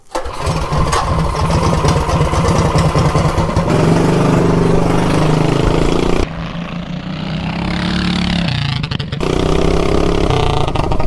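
A 420cc big-block minibike engine revs and accelerates hard, loud and close, its roar climbing in pitch, dropping briefly as it shifts or eases off, then pulling again; no talking.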